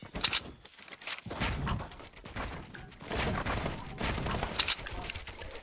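Video game gunfire in Fortnite, several bursts of shots across the span, moderately loud with busy game noise between them.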